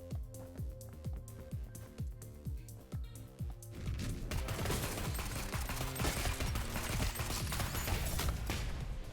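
A grenade goes off in the Neon Abyss action game. Rapid, evenly spaced gunfire gives way to a sustained, dense roar of blasting noise that stays loud to the end.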